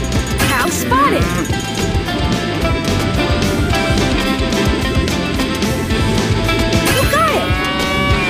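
A cartoonish cow moos twice in the video game PAW Patrol Rescue World, once early and once near the end, over busy background music and sound effects.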